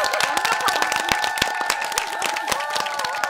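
Audience applause at a live stage show, dense steady clapping from a crowd filling the space, loud and close, with faint cheering mixed in.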